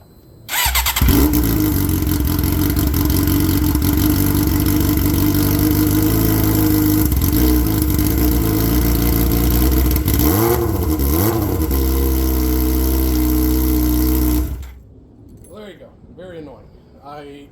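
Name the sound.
sport motorcycle engine starting and revving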